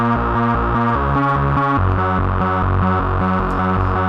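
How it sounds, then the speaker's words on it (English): A gritty, resonant trance synth bass from the Voyager preset plays a loud, distorted riff of repeating stepped notes with a steady pulsing rhythm, alone without any voice. "A very gritty and resonant bass."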